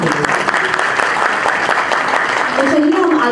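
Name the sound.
audience applause for a poetry reader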